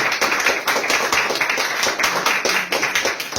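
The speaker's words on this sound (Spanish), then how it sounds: "Dale palmas al Señor, aleluya. Dale aplauso, dale con gozo." Rhythmic hand clapping from a church congregation during a Spanish-language worship service, loud, close and steady beats in quick succession throughout.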